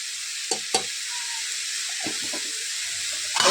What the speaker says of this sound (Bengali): এবং সবটা আবার নাড়াচাড়া করে দেবো এরকম নাড়াচাড়া